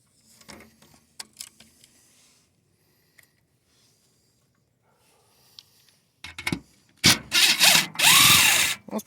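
After faint scattered clicks and taps, a power drill fitted with a socket whirs loudly in short, close bursts as it backs rusty bolts out of a license plate on an old box van.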